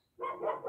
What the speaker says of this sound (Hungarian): De ő ugat.